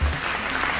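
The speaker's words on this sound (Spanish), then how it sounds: "quiero que le demos un fuerte aplauso a Sebastián Aleán, Kevin Hernández y Joana Morante" A burst of studio audience applause on a Colombian program, clapping packed into under a second, fairly close and even with no voices on top.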